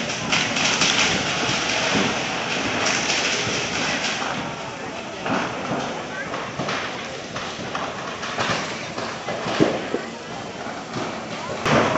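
Firecrackers stored in a goods warehouse catching fire and bursting, a dense continuous crackle and popping with scattered louder bangs throughout, loud and close, with a voice talking over the noise.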